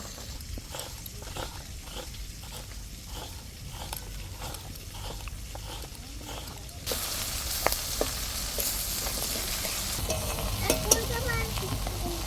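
Coriander and cumin spices frying in a pan for a Bengali prawn malai curry, a steady sizzle with rhythmic scraping stirs, growing louder and brighter partway through as more hits the hot oil.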